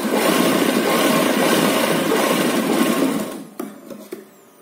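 A sewing machine stitching the side seams of an umbrella-style baby frock runs in a steady, close whirring burst for about three seconds, then stops, leaving a few soft clicks and knocks of the fabric being handled.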